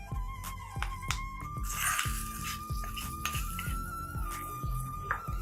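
A spoon stirring and scraping food in a metal pan on a switched-off stove, with repeated close clinks and taps in a steady, irregular rhythm.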